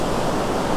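Ocean waves break on Lagos beach in a continuous loud wash of surf noise, close and steady for under a second with no voices.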